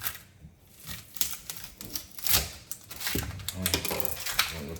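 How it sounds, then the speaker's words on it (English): Onion chopped with a knife on a board in a home kitchen, making quick, uneven rhythmic taps up close, with voices talking in the background. "Now you can cut another onion."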